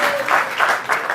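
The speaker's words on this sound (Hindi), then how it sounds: "जोरदार तालियों से स्वागत कीजिए अहमद अलवी साहब" Audience applause at a Holi Milan mushaira, an Urdu poetry gathering: a short, dense wash of clapping from a crowd, steady and fairly loud, swelling in a few quick surges across its brief length.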